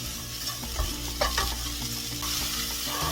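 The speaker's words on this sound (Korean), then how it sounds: "살짝 볶다가 계란을 넣어줄 거예요" Mulberry leaves stir-fried in a pan, a steady sizzle with scraping and clinking of a utensil stirring throughout, close and continuous with no voices.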